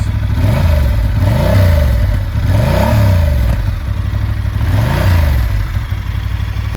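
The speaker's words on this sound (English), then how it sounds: "The stock exhaust, it sounds so nice" A Honda Hornet 750 motorcycle engine with its stock exhaust rumbles loudly and steadily up close, its deep exhaust note rising and falling in repeated revving swells.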